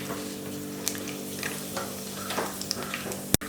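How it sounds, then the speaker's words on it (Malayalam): Mustard and fenugreek seeds sizzle and pop in hot coconut oil, a steady close frying hiss with scattered sharp crackles and a clatter near the end, no voices. "ഒരു 3-4 ടേബിൾ സ്പൂൺ വെളിച്ചെണ്ണ കൂടുതലുണ്ടെങ്കിൽ കൂടുതൽ ടേസ്റ്റാണ്. ഇതിലേക്ക് 1/2 ടീസ്പൂൺ കടുക്, ഒരു 1/4 ടീസ്പൂണിൽ കുറച്ചധികം എടുത്തിട്ടുണ്ട് ഉലുവ"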